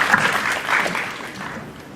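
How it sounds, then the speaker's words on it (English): An audience applauds a student team after their IPv6 presentation, a moderately loud burst of clapping that slowly thins out, with faint voices mixed in. "Let's give the Revolutionaries once again a big round of applause"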